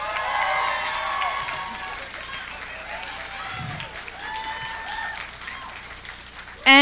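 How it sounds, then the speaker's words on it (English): Applause and crowd noise from the audience at the Hal-Con 2014 costume contest, moderately loud at first and then thinning, with scattered voices and whoops through it. "So a round of applause to Marsha."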